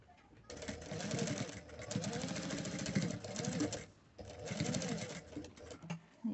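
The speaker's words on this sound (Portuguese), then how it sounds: "vou dobrar novamente e vou passar uma costura" Sewing machine stitching the folded elastic channel of a two-color 3D fabric mask, a fast rattling hum in two long bursts separated by a short pause, close and clear.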